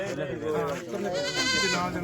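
A Barbari goat bleats in a wavering, quavering cry close by, mixed with voices and outdoor background noise at a livestock sale.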